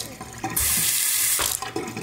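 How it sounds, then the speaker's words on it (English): Water gushes from a newly installed Kohler Archer K-2356 drop-in bathroom sink faucet, a close, loud hiss of running water into the basin that starts abruptly and runs for about a second before easing. "turned on the water."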